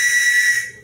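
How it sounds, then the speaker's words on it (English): One loud, shrill blast from a survival whistle, meant to be clipped to a Swiss Army knife. It is held steady for about half a second, then tails off, with nothing else around it. "That's a whistle."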